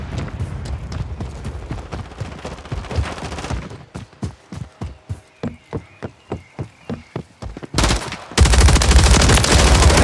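Rapid gunfire in Call of Duty Modern Warfare III multiplayer: dense automatic bursts at first, then a run of separate loud single shots in steady rhythm, ending in a sustained roaring barrage.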